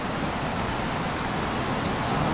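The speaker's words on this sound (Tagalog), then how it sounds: "Oh, lakas talaga yung ulan." Heavy rain pouring down in Kulaman in a dense, steady roar of broadband hiss, continuous and close with no voices.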